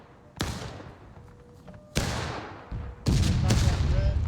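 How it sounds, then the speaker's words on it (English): Artillery cannons fire in a war video game set on a farm: three or four heavy booming blasts arrive at irregular intervals, each a sharp crack that decays into a rumbling tail, with faint background effects between them. "Cannons finding home"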